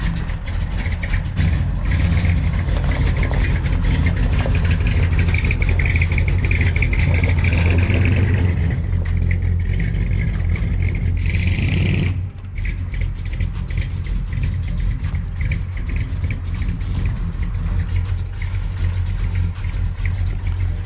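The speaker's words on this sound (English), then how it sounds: "One thing I never get tired of is that big block sound." A big-block V8 engine in a Ford F100 truck idles with a deep, steady rumble throughout, close by, with a brief change in tone partway through.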